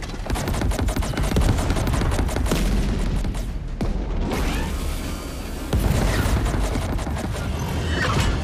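A sustained, loud barrage of rapid automatic gunfire and mechanical clatter in a video game battle, running almost without pause, with a heavier burst near the end.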